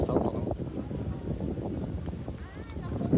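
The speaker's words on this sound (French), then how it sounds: "Tout le monde entend le vent." Outdoors beside a broad stretch of sand, wind buffets the microphone in a steady low rumble that stays strong for the whole stretch, with a dip near the end and faint voices underneath.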